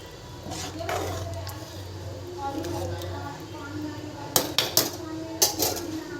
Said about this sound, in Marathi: तोपर्यंत भांडे घासून घेते मी